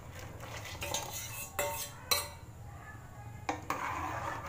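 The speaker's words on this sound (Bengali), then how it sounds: "এবারে ভালো করে মিক্স করে নিচ্ছি," Mango preserve being stirred with a spoon in a pot, giving repeated scraping and clinking strokes of metal against the pot at moderate level, with a low steady background hum and no talking.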